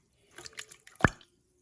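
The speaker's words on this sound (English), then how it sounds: "I'm gonna use a trusty little baby spoon here to swish it around." A small spoon swishes sugar through liquid for dinner rolls, making a few soft, wet stirring sounds and one brief splashy plop, quiet and close.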